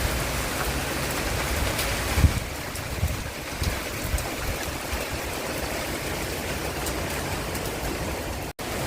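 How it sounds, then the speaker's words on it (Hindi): Steady rain pours down close by, a continuous dense hiss with occasional louder splashes and drips. "आज बारिश इसी साइड की है"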